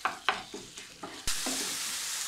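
Food fries in a pan seasoned with pepper while a utensil stirs it, giving several soft scraping strokes over a quiet sizzle that grows louder and more constant near the end.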